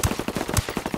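Rapid automatic gunfire in Ghost Recon Wildlands, a dense string of close, punchy shots hammering out in a steady burst with no pauses.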